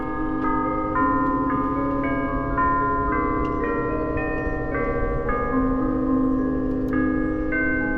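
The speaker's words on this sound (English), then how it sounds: "I finally pinpointed where the bell tunes were coming from." Town carillon bells in a town on a drive through Pennsylvania and New York ring out a melody, a steady sequence of clear pitched strikes with lingering resonance, moderately loud and unaccompanied by talk.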